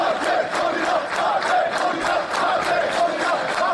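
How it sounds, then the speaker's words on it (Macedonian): A protest crowd in North Macedonia roars with loud, rhythmic cheering and chanting, rising and falling in steady pulses throughout. "Затоа еден громогласен аплауз за нашите историчари кои што се борат за нашите македонски позиции."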